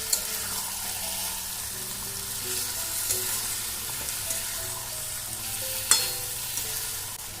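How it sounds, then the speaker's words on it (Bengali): Chicken for yogurt chicken being stirred and mixed with spices in a pan, a soft continuous sizzle with occasional scrapes and a sharper clank near the end, close and steady, with no talking. "চিকেনটা দিয়ে দেওয়ার পর আমি এটা ভালোভাবে মশলার সাথে মিশিয়ে নেব"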